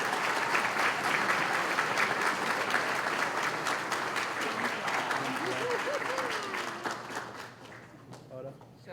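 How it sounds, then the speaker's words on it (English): Audience applause at a chamber of commerce breakfast, a steady patter of clapping that fades toward the end as voices talk over it. "Can we give her a round of applause?"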